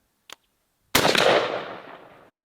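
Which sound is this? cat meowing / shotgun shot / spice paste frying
shotgun shot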